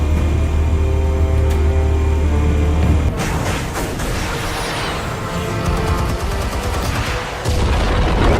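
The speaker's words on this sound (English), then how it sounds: "Explosives armed. Fire when ready." Explosives detonate in the Batman Telltale Series game: a steady low rumble gives way to a dense, roaring blast about three seconds in, followed by sustained crackling and rumbling debris, loud throughout.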